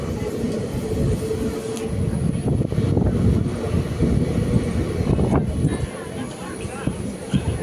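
A train rumbles and rattles past through Sachin station in Gujarat, a continuous low roar with clanks, while indistinct voices murmur throughout.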